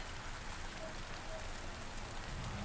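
Steady rain falls on surfaces in the Space Engineers video game, a dense, even hiss that continues without letting up and sounds fairly faint.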